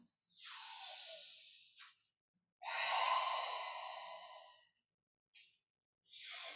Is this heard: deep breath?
yes